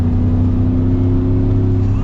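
Shelby Super Snake Centennial pickup truck with an 800-horsepower engine accelerating hard, heard from inside the cabin as a loud, steady, deep engine roar with strong low harmonics throughout.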